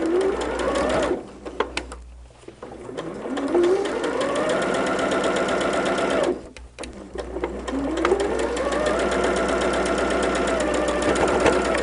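Sewing machine with an edge-guide presser foot stitching quilt fabric, running in steady whirring bursts with two brief pauses where the motor slows and restarts, close and fairly loud.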